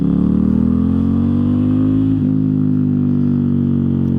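A 2019 Ducati XDiavel S engine pulls hard under acceleration, a loud close drone rising steadily in pitch with a brief shift-like dip midway before climbing again.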